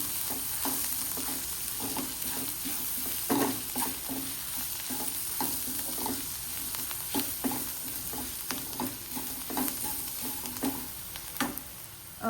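Turmeric being stirred into onions frying in a pan, with a steady close sizzle broken by repeated scraping clacks of a spoon against the pan.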